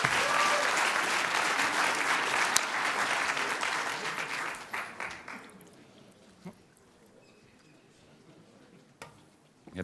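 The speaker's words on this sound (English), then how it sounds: "Applause." Audience applause at a Robot Framework Jeopardy game during a conference event, loud and dense at first, then thinning out to a few scattered claps and near silence.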